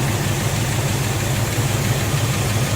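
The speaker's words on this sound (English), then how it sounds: "we got the engine running now, so moment of truth" A 1962 Buick engine idles steadily with a low, even rumble and a constant mechanical hum, close and alone with no voices.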